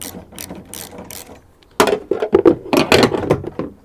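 Ratchet removing rusty strut brace bolts on a hot hatch, a few quick clicking strokes, then a louder, denser run of close ratcheting.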